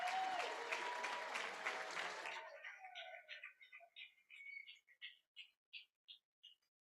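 Audience at a fall education pinning ceremony gives the elementary education graduates a round of applause. Dense, close clapping fills the first couple of seconds, then fades and leaves a string of faint, evenly spaced bird chirps alone.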